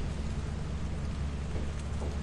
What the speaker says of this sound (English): It's raining. Is that like acid rain?